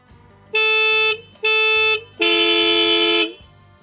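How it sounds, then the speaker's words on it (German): Three horns fitted to a self-built rally car blare together in three loud bursts, two short blasts followed by a longer held honk, close and clear with no talking. "Und jetzt wird gehupt."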